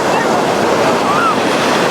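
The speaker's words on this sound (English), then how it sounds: "The waves are actually pretty, breaking pretty heavily." Rough surf breaks heavily on the beach at Vero Beach, a loud, unbroken roar of churning water with wind buffeting the microphone.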